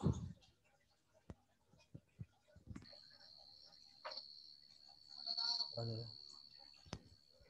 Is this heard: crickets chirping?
yes